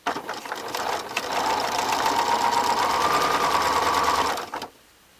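A sewing machine stitching a seam on a neck-tie pillow runs in a fast, close mechanical hum and rattle for about four seconds, then stops abruptly into quiet.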